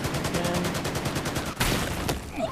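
Rapid automatic gunfire rattles in Battlefield 4, a fast regular burst of shots followed by a couple of heavier louder blasts, moderately loud with no talk.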